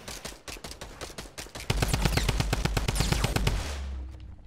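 A Tommy gun fires in a video game, loud close bursts of rapid automatic shots, first in short choppy volleys, then a sustained rattling stream that cuts off near the end.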